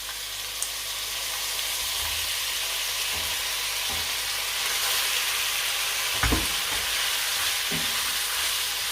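Washed beef for a beef curry sizzles and fries steadily in a pot, a continuous close hiss with a few brief bumps and clatters from stirring.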